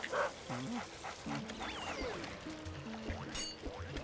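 Dog from Luigi's Mansion barking, yipping and whimpering in a short run of sharp calls and thin whines, with a faint liquid trickle and game effects around it.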